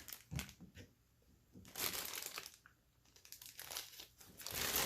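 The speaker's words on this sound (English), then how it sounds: "Take all the plastic off here." Plastic packaging crinkles and crunches in short close bursts as it is pulled off a Kotobukiya Bishoujo Beetlejuice figure, with quiet pauses between the handling sounds.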